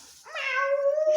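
A cat meows once indoors in an apartment being decorated for Christmas, a clear close rising and drawn-out cry that holds steady, alone without talk.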